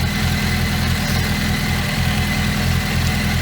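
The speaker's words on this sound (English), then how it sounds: "we're letting the engine warm up again" A car engine idles steadily as it warms up, with a constant low rumble and vibration throughout, close and even, with no voices.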